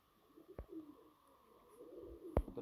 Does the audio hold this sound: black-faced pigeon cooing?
yes